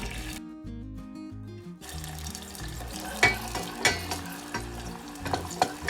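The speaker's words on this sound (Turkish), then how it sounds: "ısınan yağın içine hemen doğramış olduğum sarımsakları ilave ediyorum" Hot oil sizzles and crackles steadily as chopped garlic fries, with a few sharper pops and stirring scrapes, while music plays in the background.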